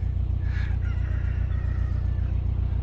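Chickens, including at least one cockerel, give a few soft clucks over a steady low engine drone from a canal boat.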